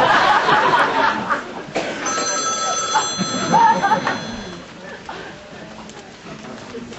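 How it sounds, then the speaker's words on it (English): A mobile phone rings on a cabaret stage during a mock wedding ceremony, its steady electronic ring tone sounding over a noisy live room with voices and audience murmur. "Oh, Jesus, it's my phone."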